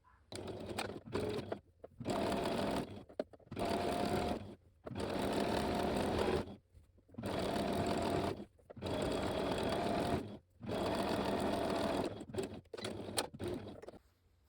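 A sewing machine stitches a hem folded twice at 1.5 cm, running in steady bursts of rapid mechanical whirring, each a second or two long, separated by brief pauses, close and clear without talk.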